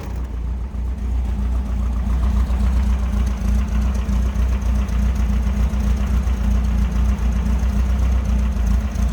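1965 Volkswagen Beetle engine idling in neutral, heard from behind the car: a close, steady low chugging rumble with an even pulse, loud and uninterrupted throughout.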